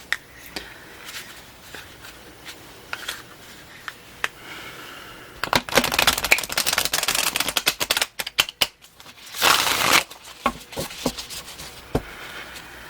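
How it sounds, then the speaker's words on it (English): Crisp, rapid riffling and snapping of tarot cards being shuffled up close, coming in quick bursts with short pauses between them. "As you can hear, they have a lot of snap to them, so I won't be shuffling them too much on camera."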